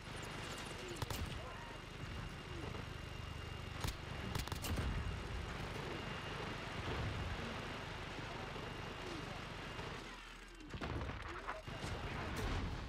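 Gunfire in Call of Duty Modern Warfare multiplayer, a steady battle din with several sharp shots standing out near the start, and a brief lull before it picks up again.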